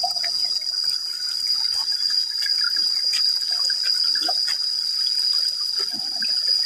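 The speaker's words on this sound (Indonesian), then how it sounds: "Mata air yang begitu sejuk" Cool spring water flows over rocks in a forest during the rainy season, a steady trickling and babbling with a constant high insect-like whine behind it and no talking.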